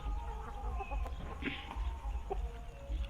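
Thai laying hens cluck softly nearby over a low steady hum, with a few brief clucks scattered through the moment.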